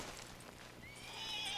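A horse in the video game Red Dead Redemption II gives a rising, high whinny near the end, preceded by faint hoof clip-clops and ambient outdoor noise, with no talk.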